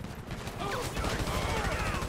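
Gunfire in GTA 5 during a police riot and terror battle, rapid bursts of shots in a fast irregular rhythm, fairly loud amid game noise.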